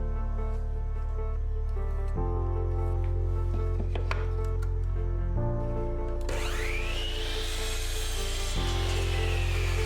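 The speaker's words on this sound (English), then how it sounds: "then cut using miter saw." A miter saw cuts through an HMR board: a loud, steady motor drone runs throughout, swelling into a brighter, harsher whine partway through as the blade bites, then settling back to the hum.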